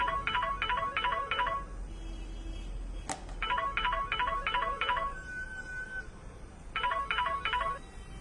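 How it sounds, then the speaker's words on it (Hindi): Mobile phone ringtone plays in three repeating bursts of quick electronic tones, steady and clear over a constant hiss, with a sharp click between the first two bursts. "तभी अचानक ही नक्श का मोबाइल बज उठा।"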